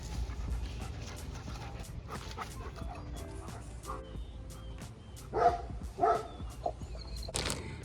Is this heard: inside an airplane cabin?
no